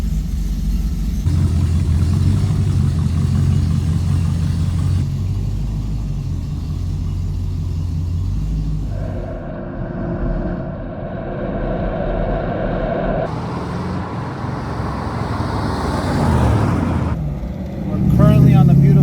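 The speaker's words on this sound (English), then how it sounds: "All cars, American specifically, will idle high when cold and go down as the temperature progresses." A Ferrari Modena California Spyder replica idles on Mulholland in sunny California, a steady low rumble with no vocal track, the engine note shifting slightly midway and a brief louder swell near the end.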